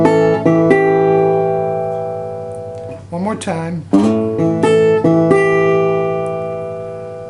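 Fingerpicked acoustic guitar notes ring out in a steady arpeggiated pattern, pausing midway as a person speaks briefly before the picking resumes.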